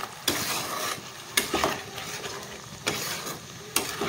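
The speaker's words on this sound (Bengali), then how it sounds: "এখানে টমেটো আর কাঁচা লঙ্কা বাটার সাথে আমি আলুটাকে ভালোভাবে একটু কষে নেব" Potato fries with tomato and green chilli paste in a pan, a dense sizzle broken by four sharp scraping stirs of a spatula, close by and fairly even in loudness, with no voices.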